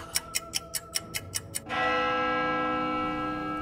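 A clock mechanism ticks several times, then a single bell stroke rings out loud and sustained, its tone hanging and slowly decaying in a quiet space.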